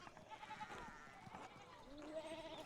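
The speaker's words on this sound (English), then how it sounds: "Sheep's blocking the path." Sheep bleat in the game Pentiment as a few wavering cries over soft background ambience, with a speaking voice partly mixed in.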